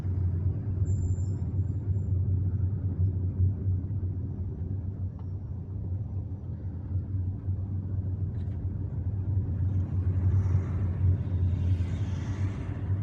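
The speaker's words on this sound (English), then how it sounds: "It's only 8:30 and there is already traffic here." Road traffic in central Birkhadem, Algiers, on a busy Friday morning, heard from inside a moving car: a steady low engine and road rumble with no breaks, holding an even level throughout and carrying no voices.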